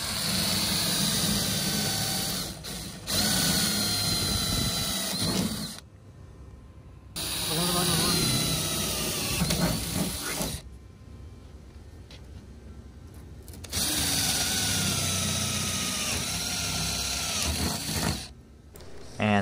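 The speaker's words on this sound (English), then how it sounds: "This is what's going to actually make the hole in order for the nail to go into the tailgate." Power drill boring a hole through a tailgate for a Cresspo wing install, whirring in several loud bursts separated by short pauses, with idle background noise between runs.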